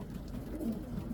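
Young Australian long-distance racing pigeons coo softly in low, throaty murmurs at close range, alone in a quiet loft atmosphere.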